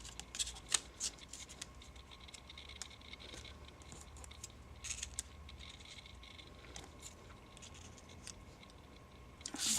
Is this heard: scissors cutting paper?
yes